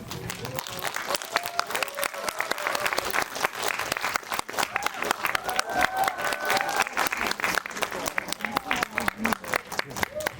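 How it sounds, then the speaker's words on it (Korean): An audience greets actors at a Korean film stage greeting with loud, sustained applause and cheering, dense clapping filling the room throughout with a few brief shouts rising above it. "입장하실 때 큰 박수와 환호로 와아주세요"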